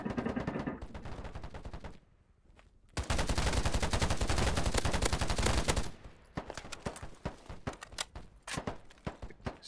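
Rapid bursts of gunfire in the online shooter Polygon: a long, loud sustained automatic volley, then scattered sharp single shots and short bursts, with footstep-like clatter in between and a brief lull near the start.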